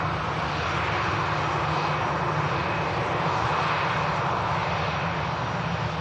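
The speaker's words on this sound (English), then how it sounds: "Malta Air just touching down. One of the Ryanair subsidiaries." Broad, steady roar of a Malta Air airliner, a Ryanair subsidiary, touching down at Manchester Airport, heard continuously at moderate distance with no talk.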